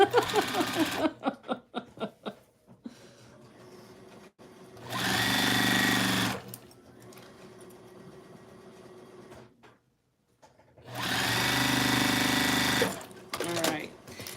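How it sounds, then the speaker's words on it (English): Sewing machine stitching up the sides of a PMQ carnival-style quilt project, running in two loud sustained bursts with quieter handling and clicks between them. "Now we're gonna sew up those other two sides, almost like we're putting the row together"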